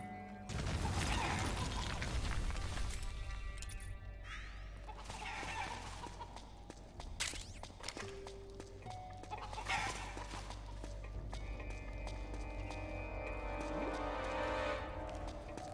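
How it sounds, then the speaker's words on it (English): A chicken clucks in Metal Gear Solid 4, its calls rising over a dense bed of game ambience, music and mechanical clatter, with a sharp crash partway through. "Chicken."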